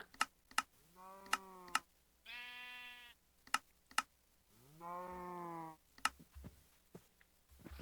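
Two Minecraft sheep bleat in turn, clear harmonic wavering calls standing alone amid sharp clicking keyboard taps during a hardcore survival game.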